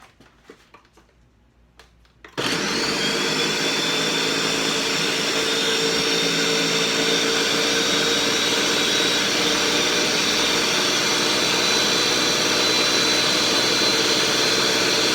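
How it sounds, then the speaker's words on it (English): A kitchen blender runs steadily on jalapeño cheese dip, starting abruptly after a few seconds of quiet handling noise and holding a loud, dense, even whir until the end. "And into the blender it goes."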